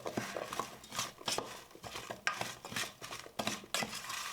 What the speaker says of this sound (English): Get that all stirred up.